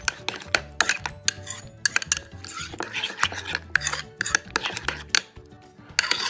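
A spoon scrapes and clinks steadily against a bowl while stirring a homemade hair mask until creamy, in close, busy rhythmic strokes with no talk.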